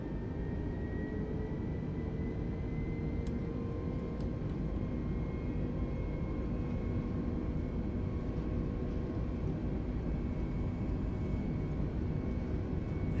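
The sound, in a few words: Airbus A320neo engines spooling up for takeoff, video game MSFS 2020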